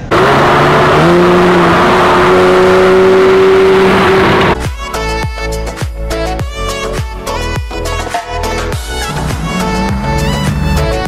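Maserati GranTurismo in a supercar convoy, a loud sustained engine drone that rises in pitch, then a rapid burst of sharp revs and crackling pops repeating close by.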